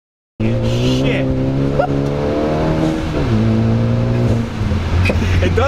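A Ford Focus ST engine revs hard around 5,000 RPM during lift-throttle oversteer, a loud steady drone with rising and falling pitch as the throttle shifts, with excited voices talking over it.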